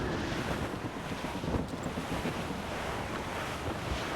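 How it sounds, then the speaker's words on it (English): Strong wind and rolling waves at sea aboard a sailing ship in Assassin's Creed Rogue, a loud steady rushing roar with gusty buffeting throughout and no speech. "Wind's getting vicious."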